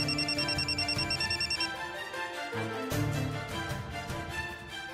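An electronic phone ringtone, repeating in a rapid pulsing pattern of bright tones for a couple of seconds before giving way to a musical score, with no speech.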